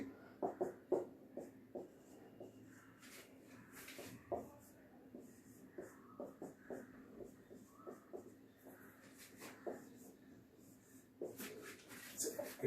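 Chemical compound formulas are written on a board during a chemistry class, with quiet scratchy strokes and small taps coming in uneven bursts against a hushed room.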